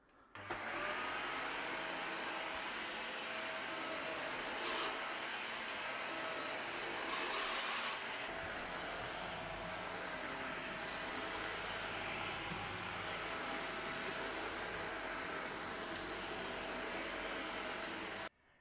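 A Hoover HL4 Pet vacuum cleaner runs steadily on carpet for the whole stretch, a constant loud whirring drone with a couple of brief higher-pitched surges partway through.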